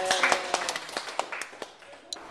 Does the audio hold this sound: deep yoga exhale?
no